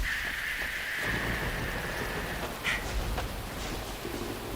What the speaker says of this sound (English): I am experiencing some real thunder just outside my window